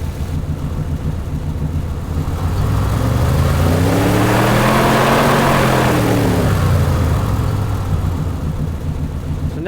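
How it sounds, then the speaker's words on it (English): A simulated car engine drones and revs up, its pitch climbing steadily, then easing back down, loud and continuous throughout. "let's take a listen to how the load going up sounds with our revs going up"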